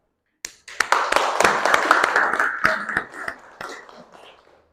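A small group claps together for a student team during a classroom Quran and Hadith lesson, starting with a few sharp individual claps, building into a brief burst of mixed applause, then thinning out to scattered claps.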